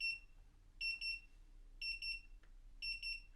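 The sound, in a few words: Eufy Smart Safe S10 left-open alarm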